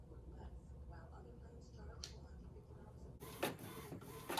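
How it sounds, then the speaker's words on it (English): A printer runs with soft mechanical whirring and clicks, then breaks into a burst of louder rapid feeding and printing noise toward the end, while a person talks quietly in a home workspace. "Printer on, printer on, printer."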